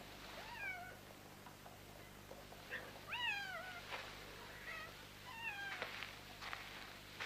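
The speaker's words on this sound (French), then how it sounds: "Ah, le petit chat." A small cat meows several times, rising and falling calls spread across a few seconds over a steady low hum, fairly close and clear with no talking.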